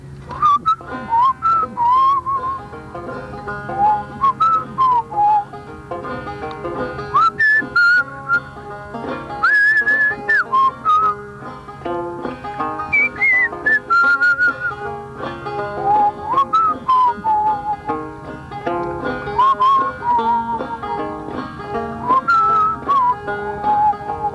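A person whistles a lively melody alone, in steady repeated phrases with short breaks, clear and close.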